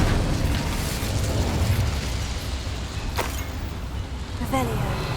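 The Incendio fire spell in the Hogwarts Legacy video game bursts inside a mine with a loud, rumbling blast of roaring flame, followed by sustained crackling and a few sharper pops as it fades.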